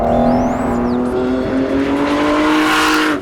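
Ford GT driving hard on Norway's Atlantic Ocean Road, a loud close engine roar holding steady with slight pitch changes and a faint squeal at the start.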